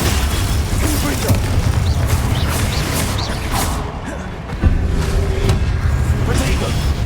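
Loud, dense game combat sound from Hogwarts Legacy, with a Confringo fire spell exploding amid booming impacts and crashes, heavy throughout with a brief dip near the middle before another burst.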